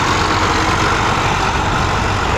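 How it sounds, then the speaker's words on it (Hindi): A Sonalika DI 745 third generation tractor works a rotavator in a field, its diesel engine a loud, steady, close rumble with no breaks and no voices. "ये देखो लो यहाँ पर DI 745 third generation Sikandar Sonali का यहाँ पर रूटर के ऊपर काम कर रहा है।"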